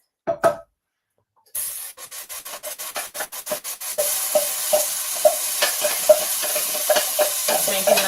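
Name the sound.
onions sizzling while frying in oil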